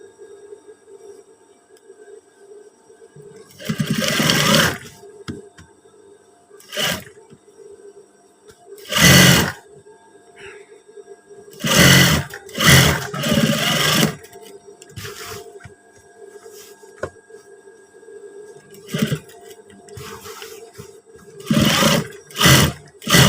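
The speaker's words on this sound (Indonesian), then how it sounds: "Sekarang kita menjahit bagian tutup." A sewing machine stitching the flap of a trouser pocket runs in short bursts of heavy whirring separated by pauses, with a low steady hum between runs.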